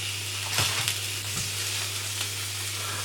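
Sausages frying in a pan for bangers and mash give a steady, close sizzle with a few brief crackles and pops, and no one speaks.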